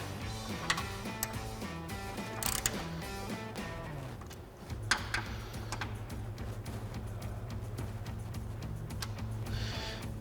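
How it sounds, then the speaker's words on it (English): Ratchet with an extension and 8mm Allen head socket tightening caster bolts on caster camber plates of a 1994-2004 Mustang, giving quick repeated clicking ticks that sit under steady background music. "tighten down our caster bolts using our 8mm Allen head socket and extension on our ratchet"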